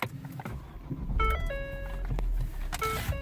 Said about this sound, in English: always lovely Ford chime